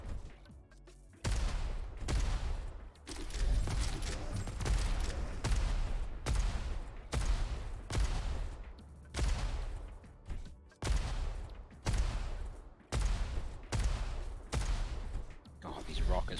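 Rocket fire in the arena shooter Diabotical during an EU race head-to-head: a rapid, steady run of loud, punchy blasts, roughly one every second, with commentators talking over them throughout.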